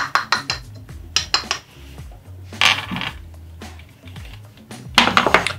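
Metal utensils clinking and scraping against a pot while cream, pectin and sugar are mixed for a chocolate ganache, irregular bursts of clatter with quieter gaps, close and unaccompanied by speech.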